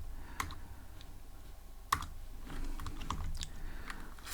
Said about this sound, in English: So I'm gonna type window dot geometry